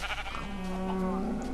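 Sheep bleating in the video game Minecraft, a short, close, sustained bleat standing alone over a steady low background hum.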